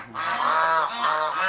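Geese kept in a shed alongside a duck give loud, nasal honks close by, two drawn-out calls in quick succession with no talking.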